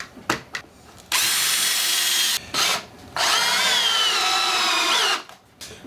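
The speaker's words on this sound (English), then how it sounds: "Now that I have those, I can go ahead and finish this pilot hole." A power drill bores a pilot hole in wood for a bathtub caddie, whirring loudly in two sustained runs separated by a short pause, with brief clicks and handling noises before and after.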